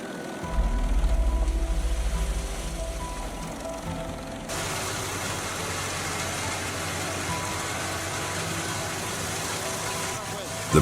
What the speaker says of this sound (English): This is a powerful wood grinder equipped with a 500 horsepower engine.